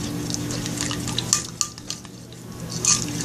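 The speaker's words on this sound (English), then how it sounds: "Let me stir the first one." Slime mixture being stirred in a bowl, with soft wet squelching and light clinks of the utensil against the container, close and brief.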